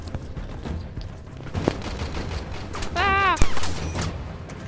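Gunfire in the sci-fi shooter video game Warframe: a loud burst of rapid shots with sharp cracks and a brief rising tonal whine, heard close amid game noise and a speaking voice.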